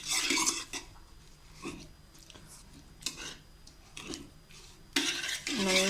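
A spoon scrapes and knocks against a pot while lumpy khoa is stirred for mutta mittai, giving irregular clinks and scrapes with quiet pauses between them.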